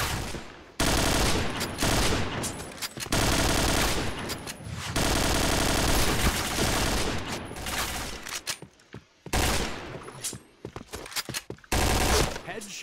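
Rapid bursts of automatic gunfire from the Point Blank shooter game, loud and dense, with brief pauses between volleys over about thirteen seconds.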